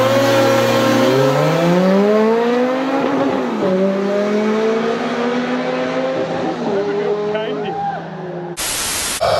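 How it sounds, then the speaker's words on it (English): A snowmobile races a Ferrari, with loud, close engine roars climbing in pitch as both accelerate hard. A hiss of static runs beneath them, and the sound cuts off abruptly at the end. "Snowmobile races Ferrari."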